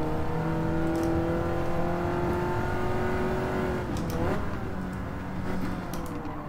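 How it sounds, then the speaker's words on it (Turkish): A race car engine runs in Gran Turismo 7, holding a steady drone that climbs and falls in pitch with one brief rev shift midway. The sound is continuous, close and even, with no talk over it. "Başladı araba."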